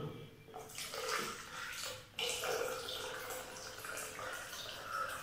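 Water poured into a protein shaker cup, a faint, steady splashing stream that continues for several seconds at close range.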